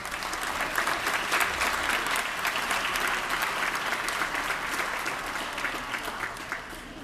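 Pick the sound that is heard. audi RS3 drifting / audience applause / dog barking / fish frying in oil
audience applause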